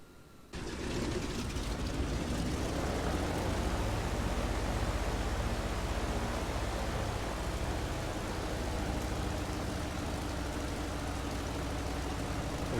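A MilViz FG-1D Corsair's engine starts up in MSFS 2020, jumping after a short moment into a loud, steady, rough roar that holds without a break.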